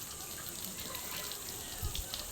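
Water runs steadily from a tap, a soft continuous hiss and splash with a brief louder gush near the end.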